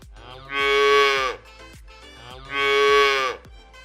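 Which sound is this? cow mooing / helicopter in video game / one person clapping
cow mooing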